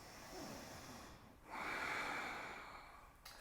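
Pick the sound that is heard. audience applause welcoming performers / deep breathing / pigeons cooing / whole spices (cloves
deep breathing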